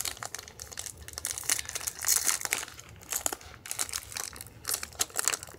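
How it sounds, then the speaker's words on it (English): An NBA Hoops trading card pack wrapper is torn open with close, busy crinkling and crumpling of plastic foil in uneven bursts, with no talk. "first let me open the pack"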